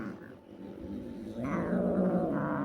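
An irritated blind orange cat growls low and continuously at close range, the rumble swelling louder and rising into a whining caterwaul partway through as its eyes are being cleaned.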